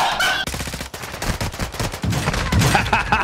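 Rapid, loud automatic gunfire from a shooter video game, with dense overlapping bursts of shots running continuously through the whole moment.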